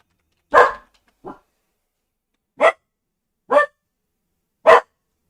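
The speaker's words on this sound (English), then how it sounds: "Max is barking like crazy" Max the dog barks five times alone: sharp, close, loud barks spaced irregularly with silence between them.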